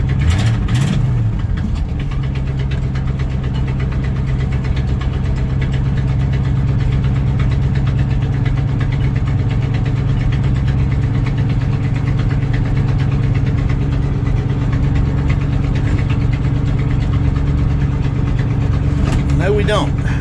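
A 1984 Chevy C10 pickup engine idles steadily after a cold start, a loud continuous low rumble with a brief rev near the start, close to the microphone and running alone throughout.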